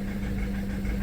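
A Renault Master van engine idles roughly with a DPF problem and faulty glow plugs, a steady low droning hum with a slightly uneven, knocking vibration that carries on continuously at close range.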